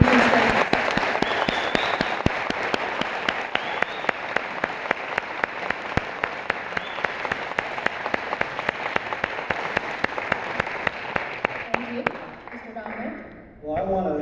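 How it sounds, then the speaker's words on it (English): Debate audience applauding after closing statements at a chamber-hosted political debate, sustained clapping with sharp regular claps standing out over the crowd, fading near the end as a voice begins. "You can applause on the closing statements."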